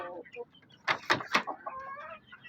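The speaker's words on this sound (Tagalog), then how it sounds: "Yung ating black australorp na stag 4 months old" A four-month-old Black Australorp stag gives a short rough crow-like call of a few bursts at close range, with a brief spoken voice before it.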